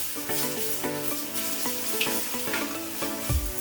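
A dark chocolate modak mixture is stirred in a pan over a gas flame, giving a soft, continuous sizzle with scraping stirs, close and steady beneath faint music.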